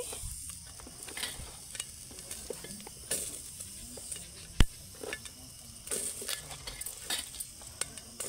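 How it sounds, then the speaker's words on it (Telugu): Green chillies fry in a little oil in a pot, giving a soft, continuous sizzle with occasional stirring scrapes and one sharp clink, quiet and close. "పచ్చిమిర్చి కొంచెం ఆయిల్ వేసుకొని ఫ్రై చేసుకోవాలి"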